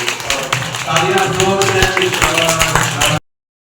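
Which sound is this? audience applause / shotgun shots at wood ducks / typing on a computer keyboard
audience applause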